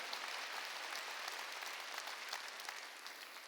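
A church congregation at a Wednesday worship service applauds, a dense even patter of many hands that stays faint and distant and tapers slightly toward the end, with no voices over it.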